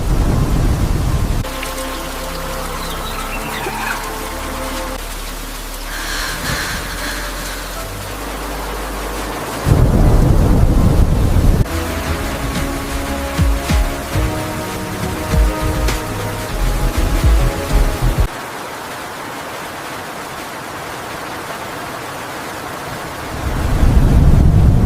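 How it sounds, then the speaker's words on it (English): Heavy rain pours steadily at a campsite with a rooftop tent on a Cybertruck, and rolling thunder rumbles through the storm. The downpour is dense and loud with surges in intensity and no talking. "The storm makes it even better."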